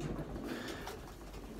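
A long-distance racing pigeon coos in low, soft murmurs close by, set against a steady background rumble.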